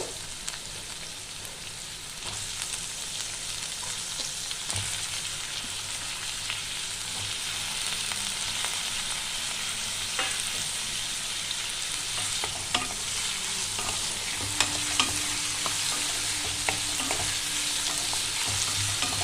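Potatoes and onions fry together in oil in a pan, giving a constant bright sizzle broken by scraping stirs, with a faint hum partway through and no talking.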